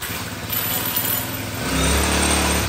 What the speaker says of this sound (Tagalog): Order niya po sa atin Huyoma grass cutter 4-stroke po ito.